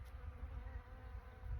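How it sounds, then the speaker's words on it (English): Bees buzzing around flowers in a home garden: a faint, continuous low insect hum with wavering loudness, steady for over a second with no voices. "And so we got bees today, which is a really good sign"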